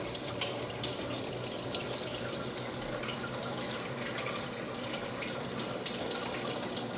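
Water runs continuously through a timed seed-sprouting system, a steady splashing and trickling flow at fairly close range, unbroken and with no voices.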